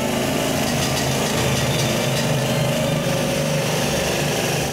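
Drilling tools demonstrated inside a mining tunnel, giving a loud, continuous mechanical roar with a steady buzzing whine that holds unbroken from start to finish, close and alone with no voices.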